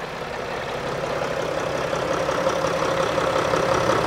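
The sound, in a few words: Sprinter van engine idling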